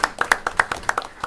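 A small group clapping at a board of education meeting, a short burst of sharp, uneven hand claps close by with no talking.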